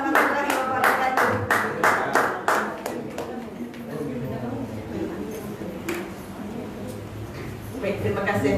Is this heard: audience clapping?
yes